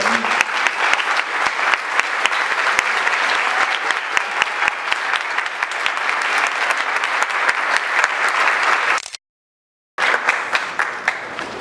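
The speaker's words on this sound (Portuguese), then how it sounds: "Uma salva de palmas para o Toninho." Graduation audience at a Catholic theology faculty applauding a priest, sustained loud dense clapping from many hands that cuts out briefly near the end and then resumes.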